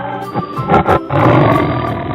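A tiger roars loudly and close in a children's animal puzzle game: a few short growling bursts, then one long sustained roar, with no voices.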